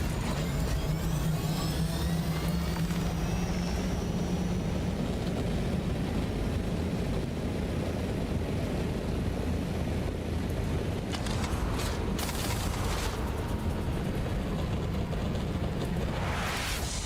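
Aircraft takeoff in a video game: a steady, loud engine roar fills the whole stretch, with a low droning tone early on and a brighter hissing burst near the end, and no talking.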